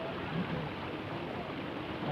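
Cold mountain stream water from Mae Mon falls and flows at a waterfall where it meets a hot spring, making a steady, dense broadband rush that holds unchanged from start to finish with no break.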